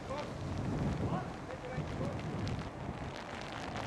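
Strong wind buffets the microphone of a cyclist riding through London, producing a continuous loud, rumbling roar with gusty swells and no clear talking.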